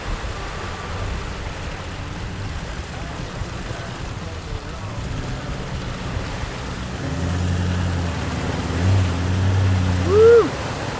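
A 4WD on Fraser Island pushes through creek water at Waiu Creek, a continuous rushing wash and engine drone that builds toward the end, with a brief whoop near the finish.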